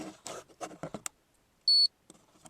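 An UltraGauge digital gauge on a 2005 Ford F150 gives a single short, high electronic beep at a button press, coming just after a man's speech and before more talk resumes.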